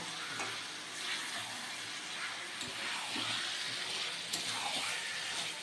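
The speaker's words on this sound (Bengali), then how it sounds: "টোটাল মটনটাকে কড়াইয়ের মধ্যে দিয়ে দিতে হবে দিয়ে এটাকে হালকা করে শুধুমাত্র নাড়িয়ে নিতে হবে" Mutton stirred and fried in a kadai for a thin mutton curry, a low steady sizzle with soft scraping and shuffling of the meat, quiet and close, without speech.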